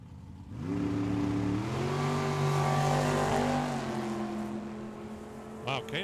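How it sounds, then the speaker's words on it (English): A drag racing car does a burnout at the starting line on a cold day at Tucson Dragway: a loud, sustained engine roar with steady harmonic drone and hissing tire smoke noise, rising briefly near the end, with no talk. "Kadar just did a second burnout when he got up there to the starting line."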